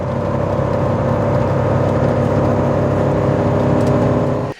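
A Porsche 928 V8 with a refreshed intake is held at high revs. It makes a loud, steady, close drone with strong low harmonics that cuts off abruptly at the end.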